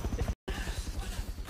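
Horse hooves clop in a steady, rapid rhythm in a video game set in the 1800s, close and prominent, briefly cut by a moment of silence before the pounding gait resumes.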